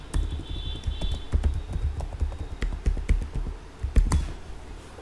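Someone types a password on a computer keyboard while logging in to a remote Azure virtual machine running Windows 11. Quick, irregular key taps and clicks run steadily throughout at close range, with no talking.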